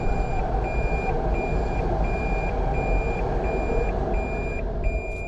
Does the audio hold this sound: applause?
no